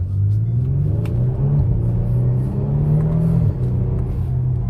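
A 2022 Genesis G70 Launch Edition accelerates hard in Sport Plus mode, its engine rumbling loudly and climbing through gears with a brief shift dip before pulling on.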